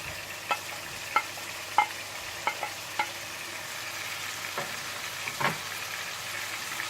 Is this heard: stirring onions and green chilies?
yes